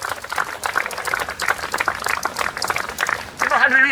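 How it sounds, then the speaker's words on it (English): A protest crowd applauds the organizer, Hui Hui, with steady clapping throughout that swells louder near the end, mixed with voices. "How about another applause for the organizer of this protest, Hui Hui."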